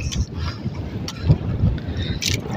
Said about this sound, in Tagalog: Lakas pa rin ng hangin